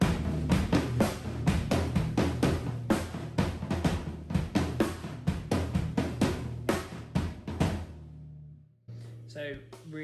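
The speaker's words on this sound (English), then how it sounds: "So you might want to then play on the floor toms or the toms instead." A steady drum beat pounds out a rhythmic pattern of deep floor tom hits for about eight seconds, then stops and a voice speaks briefly.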